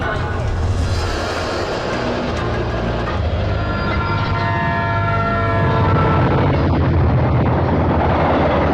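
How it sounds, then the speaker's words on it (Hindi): Godavari Express train bound for Hyderabad pulling into platform 1 at a railway station, with a loud, continuous rumble and rolling clatter that builds slightly toward the end. "हैदराबाद जाने वाली गोदावरी एक्सप्रेस प्लेटफॉर्म नंबर 1 पर आने ही वाली है"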